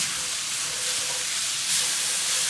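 Plant-based burger mixture cooking in a pan, giving a steady broad sizzle and hiss that stays fairly constant throughout, swelling slightly near the end, with no voices.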